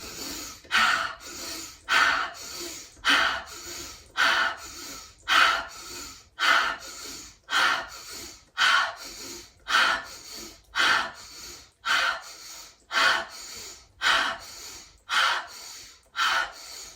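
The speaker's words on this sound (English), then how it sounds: "Big inhale through the nose to rise up. Exhale out the mouth. One more time, 2 quick inhales, 1 exhale." Kundalini yoga breath work with quick sharp nasal inhales and forceful mouth exhales, repeated in a steady rhythm of about sixteen breath cycles, close and clear with no talk.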